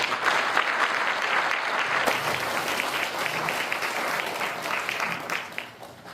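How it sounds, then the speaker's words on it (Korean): Audience applause at a Korean Provisional Government anniversary commemoration ceremony in Gyeonggi Province, sustained crowd clapping over six seconds, fairly distant and steady, easing slightly near the end. "다시 한번 큰 박수 부탁드리겠습니다"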